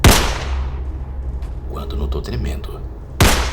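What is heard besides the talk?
gunshots in a video game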